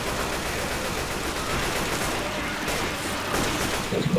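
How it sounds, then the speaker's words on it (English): Rapid gunfire from Left 4 Dead 2 rattles in a dense, continuous burst of shots that stays loud throughout, with a few sharper cracks near the end. "Shoot it! Shoot it! Keep shooting!"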